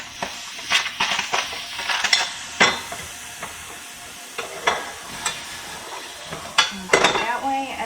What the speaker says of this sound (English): we just added some of our pumpkin. We want to kind of move that around.